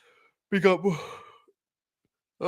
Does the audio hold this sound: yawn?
yes